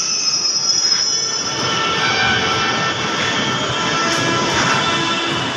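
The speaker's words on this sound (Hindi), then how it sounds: "ये घुस रहे हैं हम मेट्रो में" A Delhi metro train arrives with a continuous high metallic wheel squeal, loud and sustained over a rumbling, roaring rail noise, with no talking.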